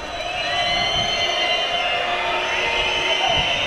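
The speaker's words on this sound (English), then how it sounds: "Whistles by the Spanish crowd to try and put the Greeks off." At a water polo match at the 2013 World Championships in Barcelona, a Spanish crowd whistles shrilly and continuously in many overlapping tones, a dense high-pitched din with faint crowd noise underneath.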